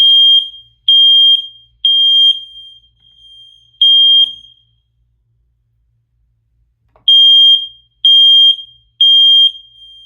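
Piercing electronic beeps from several household smoke alarms sound in a loud repeating pattern, a string of chirps, a pause of near silence, then the pattern returns.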